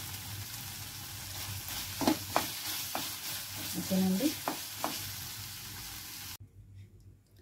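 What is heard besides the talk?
cumin seeds frying in a pan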